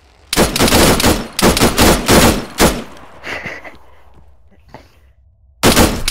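Loud, close bursts of rapid automatic gunfire from a video game, with several volleys separated by short pauses, then a quieter stretch before a final burst.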